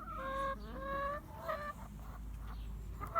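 Backyard chickens clucking close by in a fenced, concrete-floored run, with a few drawn-out, squawking calls in the first second and a half, then scattered softer clucks over a steady low hum.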